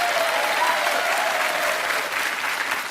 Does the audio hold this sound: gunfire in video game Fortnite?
no